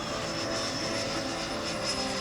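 AeroFoam L-39 Albatros RC jet with a 105mm electric ducted fan, cruising at half throttle, gives off a steady whooshing whine with a high tonal edge, constant and fairly loud throughout with no voices.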